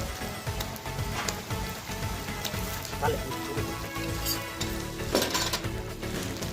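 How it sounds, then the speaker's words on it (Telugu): Ginger-garlic paste fries in a pan for a goat head and boti curry, producing a continuous, close, dense sizzle with occasional light clinks of utensil against metal. "ఇప్పుడు మనం అల్లం అల్లం వెల్లుల్లి వేసుకుందాం"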